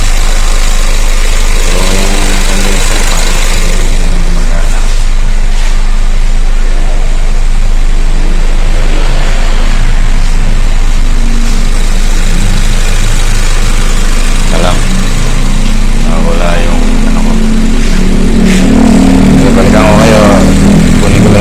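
A Honda Civic FD's air-conditioning compressor runs with its clutch engaged, giving a steady, loud engine-bay hum and vibration throughout, with someone talking over it in places.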